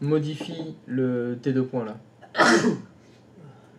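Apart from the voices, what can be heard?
sneeze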